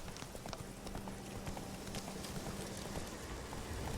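Roach the horse gallops in The Witcher 3, a steady, close clip-clop of hooves drumming continuously throughout, with no one talking.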